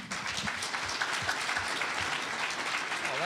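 An audience applauds at a panel discussion, with dense, steady clapping from a seated crowd filling the room throughout.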